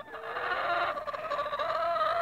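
A rooster chatters and clucks in a steady, close stream among hens on a homestead, continuous and fairly loud for a couple of seconds, with no speech.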